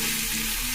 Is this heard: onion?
yes